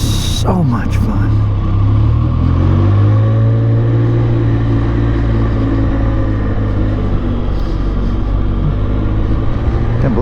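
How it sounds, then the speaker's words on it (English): A Ford F3 pickup engine revs and rumbles through its muffler in a steady, loud, deep drone, its pitch sweeping up and down across the clip. "Can't believe how well that muffler's performing"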